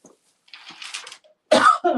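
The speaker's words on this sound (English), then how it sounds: "I'm still coughing from this stupid thing that I got." A woman coughs, a short faint cough followed by a harsher, rougher burst and a louder double cough near the end, with quiet gaps between.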